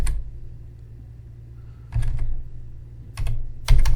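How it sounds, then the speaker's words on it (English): A computer keyboard tapped at a workstation gives a few separate key presses, including the spacebar, as sharp close clicks spaced about a second or more apart over a low steady hum. "Spacebar, random key press,"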